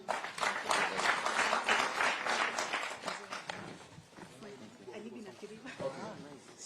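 An audience at a public meeting with people living with disabilities bursts into dense clapping for about three seconds, then the applause thins and fades beneath a speaking voice.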